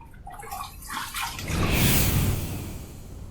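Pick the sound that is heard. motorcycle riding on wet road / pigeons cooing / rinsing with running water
rinsing with running water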